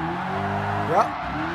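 Tyres on a 707 hp Hellcat squealing as it reverse drifts on Tokyo Expressway in GT Sport, a short rising screech over a steady engine drone, brief and close.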